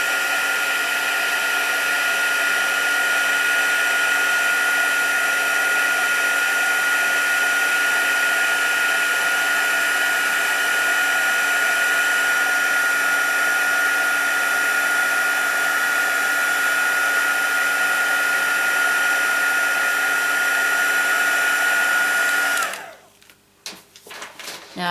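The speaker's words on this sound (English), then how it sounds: "I have a little bit of noise with my heat tool" A craft heat tool for heat embossing blows with a steady, loud, hair-dryer-like whine and rushing air, running continuously for over twenty seconds before cutting off abruptly near the end.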